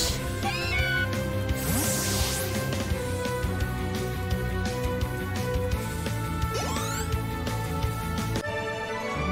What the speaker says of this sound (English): Hey, look, it's a Meowth